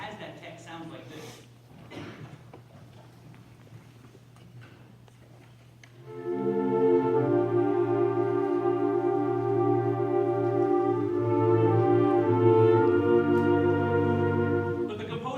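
A senior honors concert band plays, entering after a few seconds of quiet room noise with sustained, full chords that hold steadily and loudly to the end.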